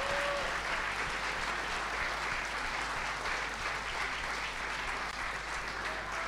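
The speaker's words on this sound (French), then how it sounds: "vous pouvez l'applaudir, Brother Main." Faint, steady crowd applause at the finale of a decathlon competition show, a continuous wash of clapping heard from a distance beneath a low hum.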